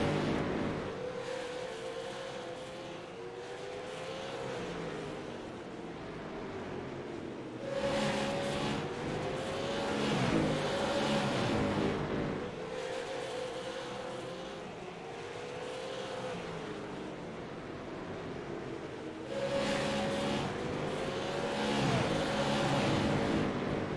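Super late model race cars roar around the track at Slinger, a steady loud engine drone with repeated waves as cars sweep past and rev through the turns, with no talk.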